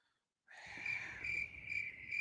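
A cricket chirping sound effect starts abruptly after a brief silence, a steady high trill that pulses slightly in loudness over faint low background noise.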